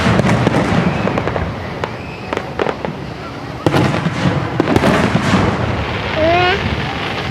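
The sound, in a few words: fireworks exploding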